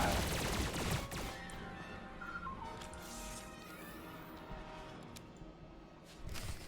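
Blaster gunfire rattles in dense, continuous volleys during an ambush in the Star Wars: The Old Republic video game. The shots are layered over other game effects and fill the whole stretch loudly.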